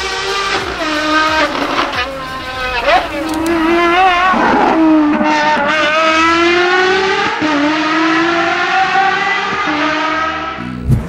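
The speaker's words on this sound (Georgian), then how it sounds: "სიჩქარეების მონაცვლეობის დროს გამოცემული ხმა კი ავიაგამანადგურებლის ბგერით დარტყმას გავს." A Ferrari FXX track car roars close and loud, its engine revving and climbing in pitch through repeated gear shifts, each change briefly dipping before the next rising howl.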